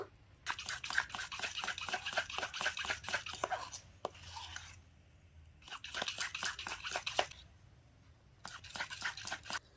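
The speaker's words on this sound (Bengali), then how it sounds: "দিয়ে ক্রিমটা আমি ফিটিয়ে নেবো" Cream thinned with two spoons of warm milk is beaten by hand in a bowl, making rapid, close scraping and clicking strokes in three bursts separated by short pauses.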